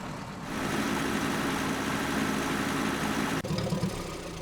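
Tractor engine running in the DayZ mod of ArmA 2, a steady low rumbling drone throughout, briefly dipping and stuttering near the end as the motor falters.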